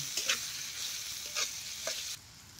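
A crushed chili mixture fries in a pan, sizzling steadily while it is stirred in several scraping strokes, close up and without talk.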